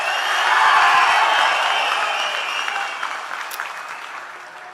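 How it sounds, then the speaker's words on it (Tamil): A large crowd at a political rally bursts into loud applause and cheering, peaking early and then slowly thinning out over several seconds as the clapping fades. "இன்னமும் ஒரு கூச்சல் சத்தம் அடங்கின மாதிரியே எனக்கு தெரியல."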